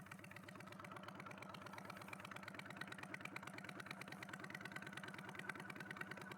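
A 2002 Honda Shadow motorcycle engine running at idle after starting, a steady close low-pitched rhythmic chug that holds an even, unbroken beat throughout.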